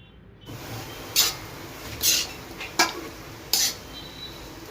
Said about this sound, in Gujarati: 200 ગ્રામ આપણે જે ગોળનું કટિંગ કર્યું હતું એ શેકેલા લોટમાં મિક્સ કરી દઈએ